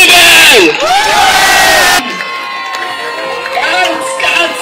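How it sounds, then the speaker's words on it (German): A loud, close crowd cheers and whoops at a full-moon night event at Riegersburg castle, a burst of shouts that cuts abruptly to quieter music and scattered voices. "Jubel!"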